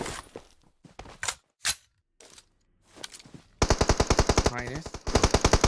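Rapid automatic gunfire from an M4 rifle in a competitive battle royale match, a dense stream of loud, evenly spaced shots after stretches of commentator talk and a few earlier scattered bursts.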